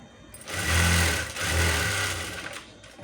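A sewing machine stitching a blouse, running in two short bursts of fast mechanical whirring with a brief pause between them, close and fairly quiet.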